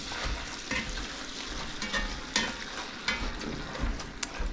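Pork sausage browns in a hot pan for sage and sausage stuffing, a steady loud sizzle with intermittent scraping and stirring clatters throughout.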